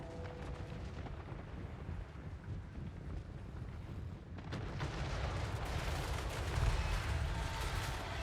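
Gunners firing guns in a Total War Warhammer battle, a dense continuous barrage of cracking shots and rumbling booms, swelling louder in the second half, with no talk over it.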